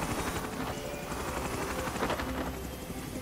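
Rescue helicopter caught in a violent storm in the film The Perfect Storm, a loud, steady roar of rotor and engine noise mixed with wind and rain, continuous and close, with no voices.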